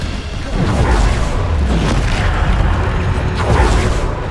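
Bombarda explosion spell from the Hogwarts Legacy video game, a loud, dense rumbling blast that swells and sustains with low booming energy and crackling debris over a few seconds.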